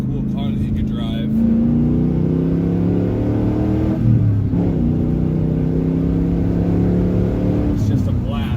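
A 1999 Chevrolet Camaro's engine drones steadily, its pitch climbing, dipping around a gear change and rising again, loud and close throughout, with a voice speaking over it.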